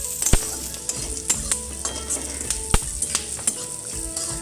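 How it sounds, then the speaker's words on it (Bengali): Curry leaves fry in a pan for a breakfast dalia upma with carrot and potato, giving a steady sizzle broken by several sharp clinks and scrapes of a stirring utensil, close and fairly loud with no talk. "কারি পাতা একটু ভাজা হোক"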